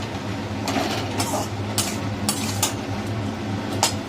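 Chopped tomatoes frying in a pan for eggplant bharta, stirred with a utensil that scrapes and clinks against the metal in irregular strokes over a low, steady sizzle, with no talking.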